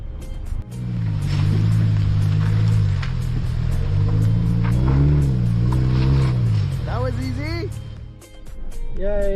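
A car driving along a road toward a hot spring near Vancouver, its engine hum steady and close inside the cabin, with voices talking over it and a brief rise near the end.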